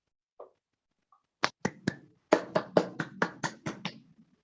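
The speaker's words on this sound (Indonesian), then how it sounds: "Tepuk tangan untuk anak-anak." Children clap in a classroom: two soft isolated claps, then a burst of about eleven sharp, close, uneven handclaps fading into a light rustle.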